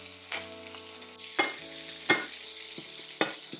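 Chopped large onion sautéing in hot oil with cumin seeds and curry leaves for sambar, a close steady sizzle broken by a few spoon stirs and clinks.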